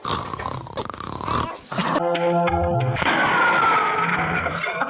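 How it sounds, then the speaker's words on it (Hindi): A deep, rough growl from a transforming character in the 1992 film Junoon rises under dramatic film music and effects, loud and sustained after a sudden shift in the soundtrack. "अब चिकना चंपू फिर से बल्लू बाग में ट्रांसफॉर्म होता है और गुर्राता है।"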